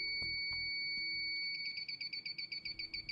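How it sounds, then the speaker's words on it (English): A GasMate gas leak detector switches on and settles into a steady run of short, high-pitched electronic beeps in quick regular rhythm, close and fairly loud, after a few soft clicks and handling knocks. "Start by powering on the leak detector and make sure GasMate is set to high sensitivity"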